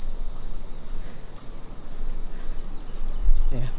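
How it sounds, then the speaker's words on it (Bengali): A constant high-pitched drone of crickets chirping all around on Henry Island near Bakkhali, steady and fairly loud, with a faint low rumble underneath. "আর ঝিঝি পোকার ডাক চারিদিকে, দারুণ লাগছে।"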